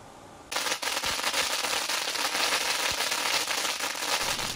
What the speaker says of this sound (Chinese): 国税局花莲分局在8月5号特别前往店家放鞭炮